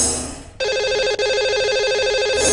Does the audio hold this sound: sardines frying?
no